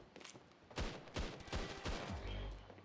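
Rapid bursts of TEC-9 gunfire in the video game Standoff 2, sharp loud cracks repeating irregularly in quick succession with a low boom trailing at the end.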